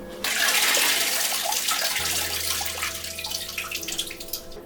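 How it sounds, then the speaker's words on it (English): Pressed apple juice for homemade apple, rhubarb and ginger cider pours in a steady, close gushing stream that splashes into a container and continues throughout. "Just emptying all the apple juice in that we're going to make the cider with."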